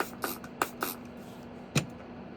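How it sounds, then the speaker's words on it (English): A few short, soft spritzes of toner from a spray bottle onto a concealer brush, close by, with a brief pause before one last stronger burst in an otherwise quiet room. "I just spray toner on my concealer brush."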